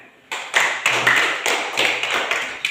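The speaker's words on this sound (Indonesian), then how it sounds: "Tepuk tangan untuk Ina." A primary school class applauds a student, a burst of quick close clapping from many hands that starts suddenly and keeps going evenly throughout.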